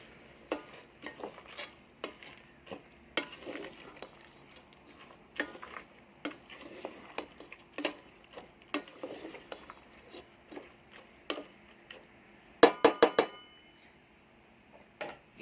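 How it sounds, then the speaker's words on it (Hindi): A spoon stirs dal into fried masala in a cooking pot for Punjabi-style mixed dal, giving repeated sharp scraping clacks in an irregular rhythm, fairly faint and close, with a brief burst of rapid knocks near the end. "दाल को अच्छी तरह मिक्स करेंगे।"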